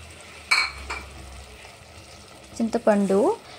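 Eggplant chutney with tamarind and garlic is stirred in a pan, a soft sizzle with a couple of utensil knocks against the pan, followed by a brief scraping burst near the end.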